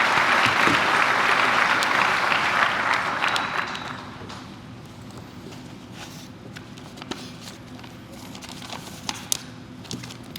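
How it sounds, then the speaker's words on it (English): Audience at a Marine Military Academy graduation ceremony applauds loudly for about four seconds, then the clapping fades to scattered claps, shuffling and faint room noise. "So will you please join me in a round of applause for our guest of honor, David Square."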